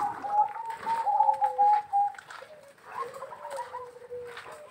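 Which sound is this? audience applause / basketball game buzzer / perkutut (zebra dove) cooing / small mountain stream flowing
perkutut (zebra dove) cooing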